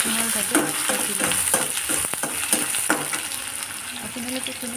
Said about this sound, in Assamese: একেলগে পিঁয়াজ আৰু জলকীয়াখিনিও মই দি ইয়াত ভালদৰে অলপ সময়ৰ বাবে ভাজি ল'ম।